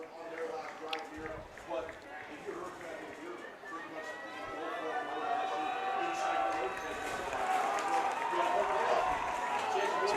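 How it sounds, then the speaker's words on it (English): A crowd at a high school football game between Provo and Hurricane cheers the offense on fourth down. The broad roar builds steadily and grows louder toward the end, under a commentator's voice. "The crowd offers some encouragement to the offense"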